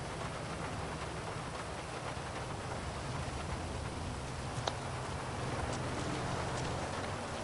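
Rain in the GTA Online video game falls as a steady, even hiss of game audio, with a few faint clicks near the middle and no speech.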